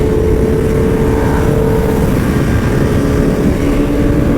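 Heavy superbike riding on the road, a loud, steady engine drone with wind roar as the rider holds speed through a lean.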